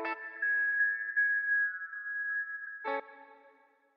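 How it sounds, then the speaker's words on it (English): Two electric guitar chords, each soloed with a harsh, ringing resonant frequency boosted by a steep 24 dB filter, the first sustaining for almost three seconds before a second struck chord that fades away; no talking. "You can hear that kind of gross resonant frequency."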